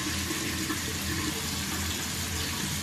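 Tap water runs steadily into a sink for face washing with a makeup eraser cloth, a constant close hiss and splash with no talking.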